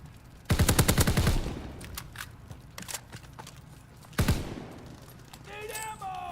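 Bursts of automatic gunfire in a first-person shooter video game: a loud rapid burst at the start, scattered shots, then another heavy burst, ending with a whistling, warbling tone.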